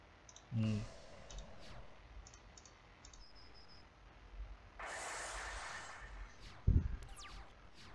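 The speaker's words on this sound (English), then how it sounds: "I'm just clicking on stuff." Mouse clicks during a Yu-Gi-Oh card game duel on a computer, sparse single clicks scattered across quiet background, with a louder thump near the start and a burst of noise midway.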